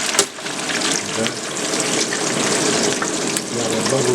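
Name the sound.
porterhouse steak frying in hot oil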